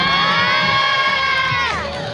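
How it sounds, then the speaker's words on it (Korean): A crowd cheers and shouts with high, sustained voices that swell loudly, then dip and trail off near the end, with little clapping standing out. "박수 주세요"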